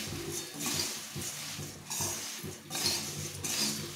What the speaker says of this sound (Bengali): মুড়িটা দিয়ে দেবো, দিয়ে এটাকে ভালো করে ভেজে নিতে হবে